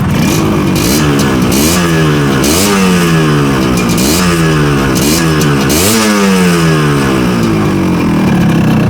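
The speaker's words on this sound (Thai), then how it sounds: "ขอฟังเสียงหน่อยแล้วกัน เสียงมันจะ อ๋อ ท่อเดิม มันก็จะประมาณนี้นะท่อเดิมนะ" A Yamaha RX-Z two-stroke motorcycle with its stock exhaust revs repeatedly up and down, loud and close, its engine note climbing and falling in several rising sweeps over a steady idle.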